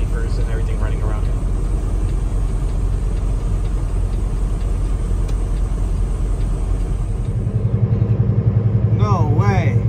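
Heavy trucks and refrigerated trailer reefer units drone steadily at a truck stop during an ice storm, a loud continuous low engine rumble, with a brief whine rising near the end.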